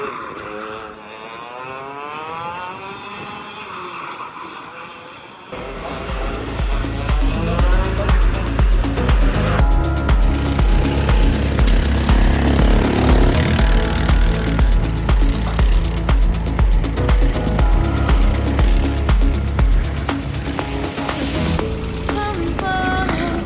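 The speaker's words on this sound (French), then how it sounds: "Maintenant, on va faire le karting IRL sur la piste." Go-karts racing on a track in a GTA game, engines droning loud and steady with rapid rhythmic pulsing and shifting pitch, starting after a few quieter seconds and continuing without pause.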